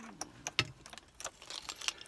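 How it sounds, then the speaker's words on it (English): A key is pushed into a worn ignition switch on an old Talbot Express van, with a series of faint metallic clicks, scrapes and key jingles close by and no talk. "So I simply put one of the keys in"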